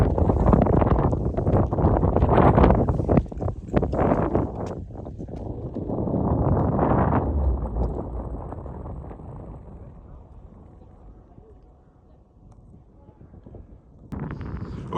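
Heavy wind in Moab buffets the microphone in loud, rumbling gusts that ease off for a while and then surge back near the end.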